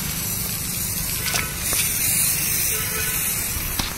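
A vehicle being spray painted, with a steady close hiss of the spray gun running the whole time and a brief swell in the middle, while a voice talks over it.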